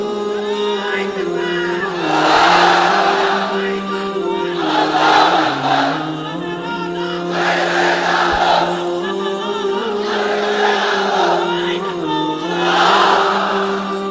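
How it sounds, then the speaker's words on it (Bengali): A large gathering at an Islamic sermon shouts the takbir (Allahu Akbar) in unison, with four or five loud swelling waves of chanting voices that answer each other over a steady droning tone. "তাকবীর পড়েন তো দেখি, আল্লাহর নামে পড়েন, লিল্লাহি তাকবীর"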